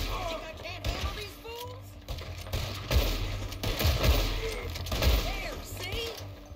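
Rapid bursts of gunfire from a Red Dead Redemption 2 shootout crackle in quick clusters at moderate loudness, mixed with game sounds and voices.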